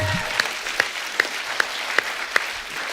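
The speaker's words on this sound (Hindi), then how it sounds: "इनके लिए जोरदार तालियां।" Audience clapping on a comedy talk show stage, a steady wash of applause punctuated by a few sharp, evenly spaced claps standing out above the crowd.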